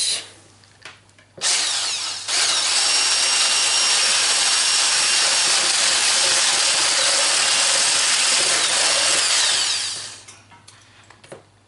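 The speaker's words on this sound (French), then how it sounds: "on va prendre nos blancs d'œufs qu'on va commencer à monter" An electric mixer whipping egg whites for a Japanese cheesecake, starting after a few brief bursts and then running as a loud, steady high whir for about eight seconds before winding down.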